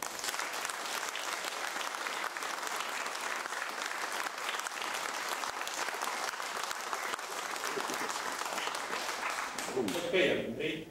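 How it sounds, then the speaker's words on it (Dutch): Sustained clapping from a seated audience at a team presentation, honouring a colleague, steady and fairly loud throughout, with a voice breaking in near the end. "Dus, uw applaus en appreciatie voor Hanna Rossé"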